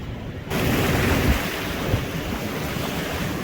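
Ocean surf rushing up a gravel beach as the tide comes in, a loud continuous wash of water churning over stones with heavy wind buffeting the microphone, no voices.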